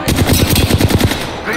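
Rapid automatic gunfire from the video game Apex Legends, a loud, dense burst of repeated shots in quick rhythm lasting the whole moment, with no speech over it.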